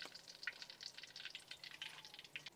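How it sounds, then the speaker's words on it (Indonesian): Pindang fish frying in hot oil, with a steady crackling sizzle and sharp pops throughout, close and fairly faint. "Mari geng goreng pindang"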